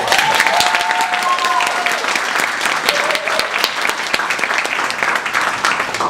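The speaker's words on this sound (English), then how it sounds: "We have one last round of applause for our sixth." Audience applause at a university cultural studies forum panel, dense steady clapping filling the room for several seconds, with a few faint voices and whistles mixed in.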